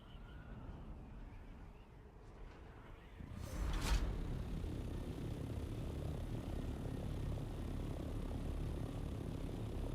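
Steady droning engine of a chopper aircraft in the game Dune Awakening, quiet at first, then swelling into a louder continuous whir with a brief burst, sustained to the end.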